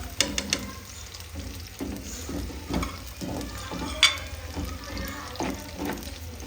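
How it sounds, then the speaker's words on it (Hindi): Onion frying in a pan for a Pakistani-style urad dal with meat, a steady sizzle with intermittent stirring scrapes and a few sharper clinks, close and fairly loud throughout with no talk. "अब इसमें चली गई है प्याज।"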